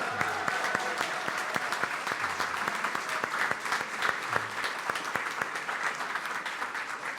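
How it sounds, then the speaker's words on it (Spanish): Congregation applauding during a Sunday Mass in church, a sustained spread of many hands clapping, fairly loud and even throughout, with individual sharp claps standing out now and then. "Un aplauso"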